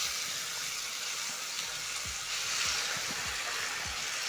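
Diced tomatoes, onions and spices sizzle in a pan while being stirred for a Kenyan lentil stew, a steady close hiss with a few soft clinks and scrapes.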